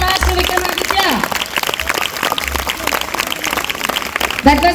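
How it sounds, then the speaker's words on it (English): Audience applause for a student after a school speech, a dense steady clatter of many hands filling the clip, with a voice heard briefly over it near the end. "Big round of applause to Vikramaditya."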